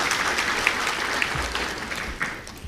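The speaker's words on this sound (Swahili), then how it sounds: "Naomba tumpongeze kwa makofi mengi sana." Audience applause at an official ceremony in a hall, sustained even clapping from many hands at moderate distance, with a low rumble underneath and no speech over it.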